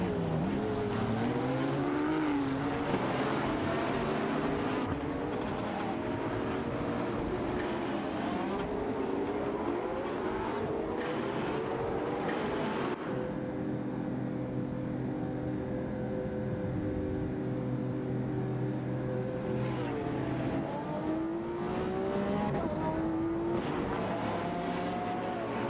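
Race car engines in an AI racing video game, among them a McLaren and a Radical RXC Turbo 600, drone and rise through gear changes in a continuous loud, layered whine with no pauses.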